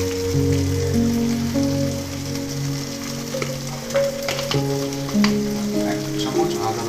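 Ground cumin and coriander frying and being stirred in a pan, giving a steady close sizzle with spatula scrapes and clinks over a low background hum.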